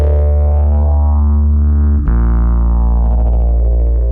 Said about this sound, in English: So I'm going to be turning the drive up and using the APH12 on my Harpist bass strings